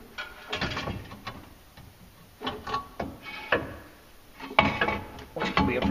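Clutch being worked off the shaft of an Arctic Cat Prowler 700 HDX during a clutch kit install, heard as irregular metallic clunks, rattles and scrapes in several bursts, close by and moderately loud, with no talking.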